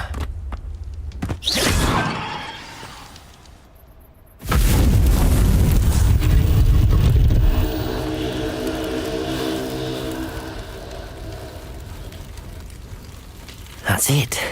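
A Confringo spell explosion in the video game Hogwarts Legacy: a sharp whooshing burst, then after a pause a loud booming blast that rolls on with rumbling debris and fades, ending in another short burst.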